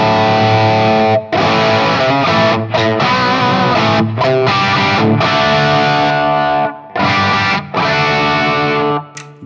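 Electric guitar run through an Enhancifier analog psychoacoustic boost pedal with its tight control engaged, loud distorted chords and riffs with brief gaps between phrases, played alone without talk.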